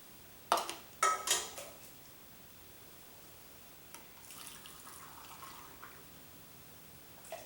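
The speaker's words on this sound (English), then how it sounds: "fill each jar with the boiling water that I have over here on the stove" Boiling water from a pot on the stove pours into canning jars packed with carrots, a soft steady liquid stream after a few sharp clinks near the start, quiet and close with no talk.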